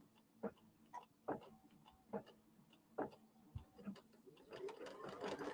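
Faint, rhythmic ticking and tapping from an embroidery sewing machine stitching a placement line on a quilt block, about one stroke per second, quiet and close, with a brief clunk near the end.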